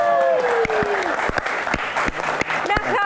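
Audience applause for visiting university students at a Q&A talk show event, a steady dense clapping wash lasting the whole clip with a few sharper claps standing out and a brief whistle or cheer near the end.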